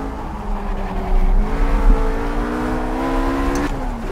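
A RUF RGT 8 race car engine in Project CARS, lapping the Eifelwald track, pulls hard under full throttle. Its loud, close whine climbs steadily in pitch, with a brief dip at a gear change.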